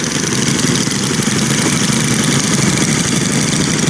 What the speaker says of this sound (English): 1 4-cylinder weed whacker. That's pretty awesome. It does sound pretty neat.